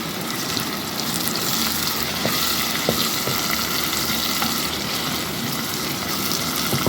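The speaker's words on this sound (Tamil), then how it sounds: "இப்போ கொஞ்சம் கறிவேப்பிலையும் போடுவோம் போட்டு நல்லா வதக்கி விடுவோம்" Curry leaves sauté in a pan with a continuous loud frying hiss and crackle, with occasional light clicks of stirring, close up and without voices.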